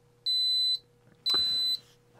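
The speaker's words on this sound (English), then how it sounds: "now it's buzzing." A high-pitched electronic buzzer on an XH-M611 lithium battery under-voltage protection module beeps twice in a steady pulse, with a brief click or knock during the second beep and the start of a third.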